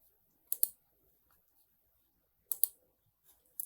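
A computer mouse gives two quick double clicks, close and crisp, separated by about two seconds of near silence, with a faint extra click at the very end.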